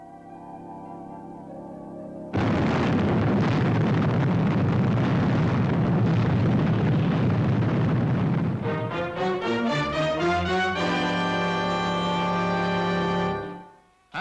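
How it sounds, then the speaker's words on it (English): An explosion in space in the puppet series Fireball XL5 erupts suddenly into a loud, sustained roaring blast lasting several seconds, then gives way to swelling music. "That's the 7th explosion, Commander Zero."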